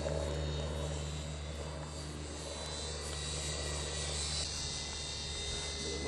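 A radio-controlled Extra 300 model airplane flies with a steady, loud propeller engine drone that holds constant throughout, close and continuous with no talk over it.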